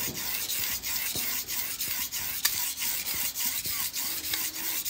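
A knife blade scrapes rhythmically across a natural Japanese or French whetstone in steady back-and-forth strokes, a close, gritty rasping repeated about twice per second.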